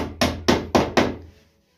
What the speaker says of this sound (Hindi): सीधे चलाते भाई हथौड़ी को